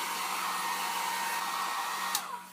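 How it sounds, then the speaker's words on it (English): A hair dryer set to low heat blows over hot glue pieces in a continuous, even whir that holds steady and then drops off near the end. "use your hair dryer at low temperature"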